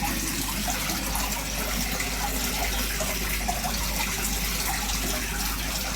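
Steady, continuous rush of water from a koi pond bottom drain opened slightly for cleaning, a broad even flow holding at a constant level throughout with no voices over it.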